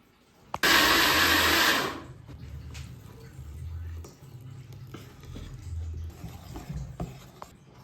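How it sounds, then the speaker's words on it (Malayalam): A mixer grinder briefly whirs through unniyappam batter in one loud burst of about a second, then cuts off. Quieter kitchen handling and a voice follow. "അപ്പോൾ നമുക്ക് കുറച്ച് അരയ്ക്കുമ്പോൾ കുറച്ച് വെള്ളം ഒഴിച്ച് കഴിഞ്ഞാൽ നമുക്ക് ഒന്ന് അരയ്ക്കാം"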